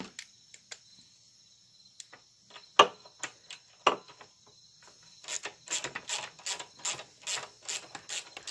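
A socket ratchet on a Craftsman push mower removes the bolts that mount the carburetor to the block, giving a few scattered clicks and knocks and then a steady run of quick, close ratcheting clicks.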